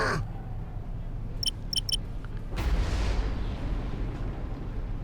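A volley of torpedoes slams into ships in the space strategy game Battlefleet Gothic: Armada, with a few quick electronic blips followed by a deep, rumbling impact boom that rolls and fades.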